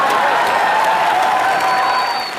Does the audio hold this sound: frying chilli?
no